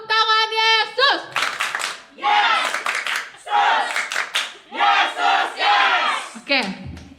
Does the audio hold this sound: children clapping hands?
yes